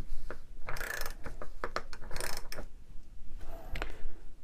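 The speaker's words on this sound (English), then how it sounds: "it's definitely not the tightest ratchet in the world, but it still works" A worn vintage Rahsol ratchet, over 70 years old, clicks in several quick bursts of sharp, close metallic ticks with short pauses between strokes.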